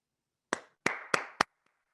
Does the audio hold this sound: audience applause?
yes